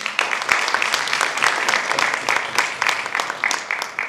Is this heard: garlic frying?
no